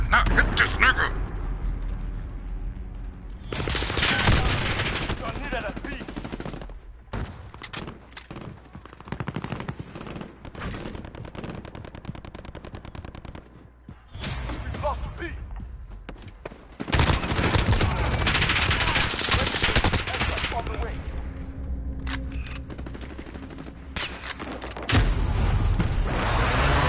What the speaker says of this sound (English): The enemy is taking shots.